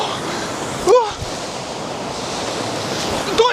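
Loud, steady rush of a waterfall on the Zelenytsia River falling close by, with a couple of brief vocal exclamations cutting through.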